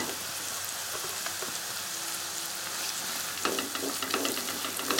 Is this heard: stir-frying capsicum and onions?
yes